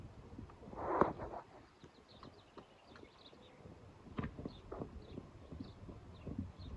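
Hooves of a trotter horse clip-clopping at a steady rhythm during a riding lesson, fairly close, with occasional faint snorts and outdoor ambience.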